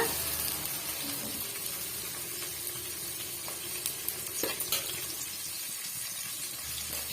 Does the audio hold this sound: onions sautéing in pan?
yes